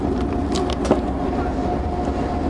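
An Egyptian Railways train running between Cairo and Luxor, heard from inside as a constant loud rumble and hum with a faint rattle and one short knock.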